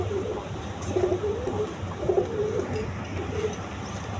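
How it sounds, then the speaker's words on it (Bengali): Indian kaldom pigeons on a farm coo in soft, repeated low phrases, several calls overlapping close by over a steady background hum. "এই যে দেখেন কবুতরগুলো, একদম ইন্ডিয়ান কালদম"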